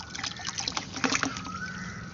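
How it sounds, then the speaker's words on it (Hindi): Water runs steadily into a bucket meant for watering plants, a close continuous trickling and splashing stream with small gurgles. "चला दिया है, अब ये देखिए पूरा भर जाएगा"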